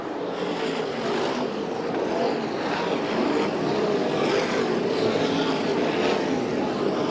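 USAC National and CRA sprint cars race three wide out of a turn on an oval track at the Western World Championship in Phoenix, a steady loud engine roar that fills the whole stretch.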